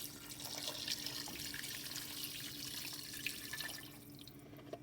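A quart of water pours into a pot of chicken noodle soup, a quiet, steady splashing trickle that thins out near the end, with no voices.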